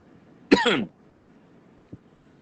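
A single harsh cough bursts out close by, about a third of a second long, followed by a faint click and quiet room hiss.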